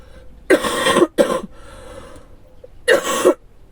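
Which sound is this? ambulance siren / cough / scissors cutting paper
cough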